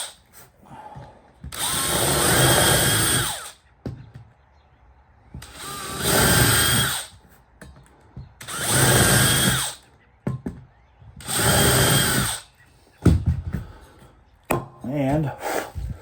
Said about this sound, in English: So we're going to drill these 6 holes out